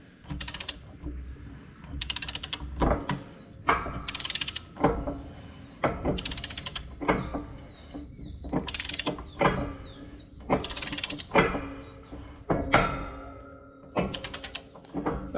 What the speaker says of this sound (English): Got my torque wrench set to 150.